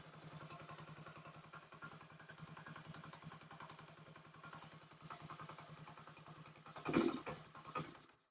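Honda SL70 motorcycle engine idling at its first start, a fast, steady low chugging putter that runs close and fairly quiet, with a brief louder burst near the end.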